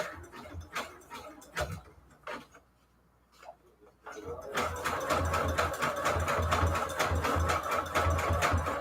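A sewing machine stitches in short bursts, stops briefly, then runs in a fast, steady rapid ticking rhythm, close and fairly loud.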